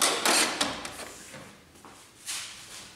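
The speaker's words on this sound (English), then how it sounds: "Open the cover of the printer." The cover of an Epson inkjet printer is opened, producing a close plastic scrape and sliding rustle at the start, a couple of light clicks, then a brief second shuffle of plastic moving near the end.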